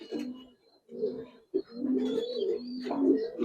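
Giribaz pigeons coo in repeated low, throaty bursts close by, with a few brief pauses between phrases and no one speaking.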